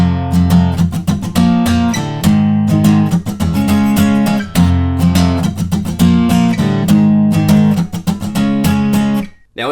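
Electric guitar playing a riff at full speed, a loud, driving strummed pattern of chunky chords with muted scratches between them, steady and continuous before stopping abruptly at the end.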